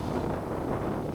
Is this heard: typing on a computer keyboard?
no